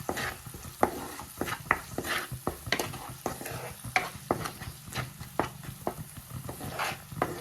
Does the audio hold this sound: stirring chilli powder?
yes